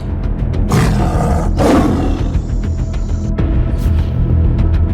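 A loud, deep roaring growl from a tiger, rising in a couple of powerful bursts and sustained throughout, close and dominant.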